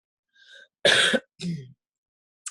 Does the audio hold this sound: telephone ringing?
no